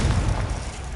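A Confringo blasting spell goes off in a Harry Potter video game, a loud, dense booming explosion with rumbling low end that fills the whole moment without fading.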